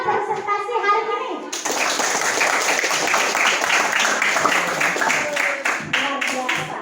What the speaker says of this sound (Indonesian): Tepuk tangan untuk kalian semua yang sudah presentasi hari ini.